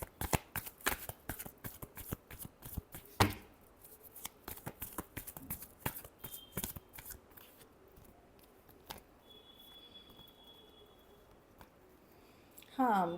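Tarot cards shuffled by hand in rapid riffling bursts, crisp and close, with a few pauses and brief handling noises between runs; a voice speaks faintly at times.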